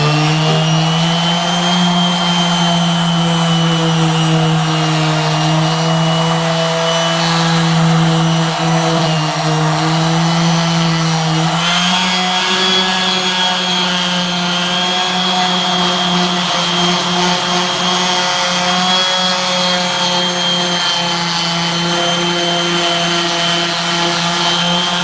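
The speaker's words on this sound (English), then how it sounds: "Little finish sanding on the bottom here." A power sander whines steadily on the bottom of a live-edge walnut bowl, a loud, continuous high-pitched drone that shifts pitch slightly midway as the pressure changes, with no speech.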